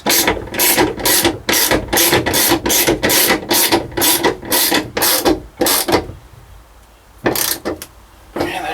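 A screw is ratcheted into an aluminum electrical box in a Ford F250 diesel engine bay, giving a long run of loud, evenly spaced clicking strokes that pause briefly and then resume.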